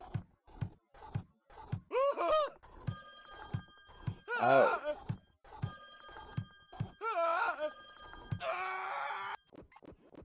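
A telephone in Friday the 13th: Killer Puzzle rings in several short warbling bursts, spread through the clip between soft thuds and brief game effects, with one quick spoken exclamation.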